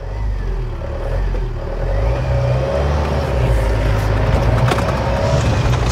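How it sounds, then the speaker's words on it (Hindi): A Mahindra Thar revs hard as it pulls away on sand, its engine note climbing steadily and staying loud and close for several seconds with a constant rumble underneath. "अब हम चलाएंगे ये महिंद्रा थार। गियर लग गया फास्ट।"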